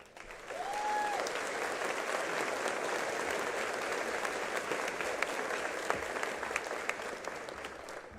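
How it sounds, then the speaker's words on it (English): Audience applause for teachers and staff at a high school graduation ceremony, a dense, steady wash of clapping that rises quickly and holds at moderate loudness, with a few sharper claps standing out. "They all deserve a round of applause"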